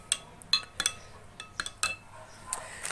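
A spoon clinks repeatedly against a glass while garlic and cinnamon powder are mixed into a chia seed weight-loss drink, several sharp, bright taps in an irregular rhythm, close and fairly quiet.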